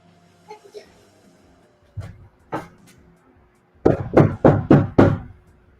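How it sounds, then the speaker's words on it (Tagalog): Knocking on a door: a couple of isolated knocks, then a close, loud burst of five quick raps, over a quiet room with faint background sound. "may kumakatok"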